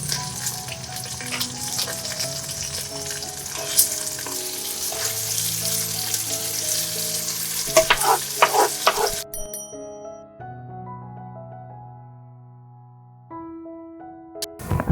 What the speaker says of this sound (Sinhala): දැන් අපි මාළු ටික දානවා තෙල් හට්ටියට